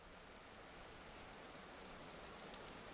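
Steady rainfall in the video game Daub, a dense, even hiss of drops across the whole clip, soft and continuous with no voices.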